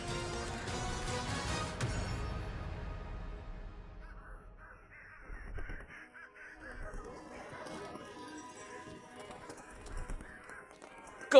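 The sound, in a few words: crow cawing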